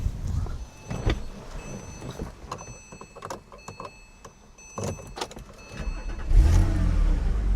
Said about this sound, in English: So it's got a beautiful flat 6 thrum to it